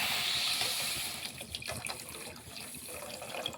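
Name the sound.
water pouring into pan of sugar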